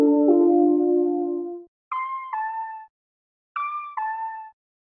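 Dry synth pluck in FL Studio with no effects: a held low chord, then short bright plucked notes in two pairs separated by silence, clean and close.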